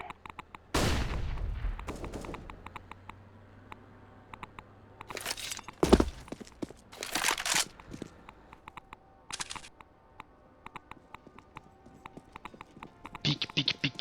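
A flashbang grenade goes off with a sharp blast and fading ring during a ranked match on the Train map of a tactical shooter, followed by scattered bursts of gunfire and clicks.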